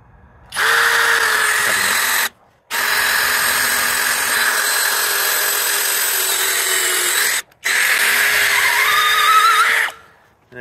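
A power drill whines steadily while boring holes through a wooden feed bunk post, with three long close runs separated by brief pauses, the motor pitch shifting slightly as the bit bites into the wood.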